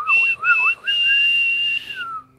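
A person whistling a short tune close by, loud and clear, with warbling opening notes, a brief pause, then a long sustained tone that slides down at the end.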